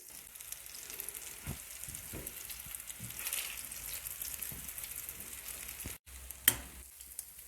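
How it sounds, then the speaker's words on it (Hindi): Aloo gola kebabs frying in hot oil: a steady, soft sizzle hisses continuously at close range, with occasional faint stirring clinks and a brief sharp pop near the end. "तकरीबन हमने 4 से 5 मिनट फ्राई किए हैं।"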